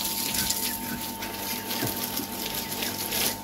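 Cold water gushes in a steady, splashing stream over a pig in a village pig shower, close by, with a low hum underneath.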